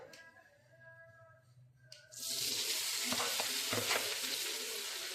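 Idli pieces drop into a hot oiled pan and burst into a loud, steady sizzle, with scraping stirs through the frying; quieter kitchen clatter comes before the oil erupts.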